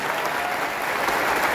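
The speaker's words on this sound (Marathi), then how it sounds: "राजेश भाऊ पावडेंसाठी एकदा जोरदार टाळ्या द्या" Loud, even applause from an audience at a stage gathering fills the whole moment, a thick continuous patter of many clapping hands with no voices standing out.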